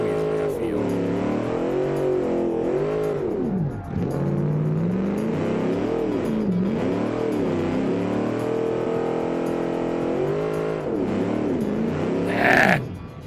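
Engine of a drift car in a car-building video game revving up and down repeatedly, wavering pitch climbing and falling, with someone talking over it throughout.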